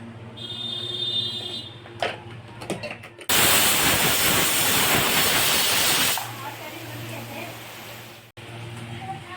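A pressure cooker cooking pasta lets out a loud, long hissing whistle of steam for about three seconds, preceded and followed by quieter background noise and a brief clatter.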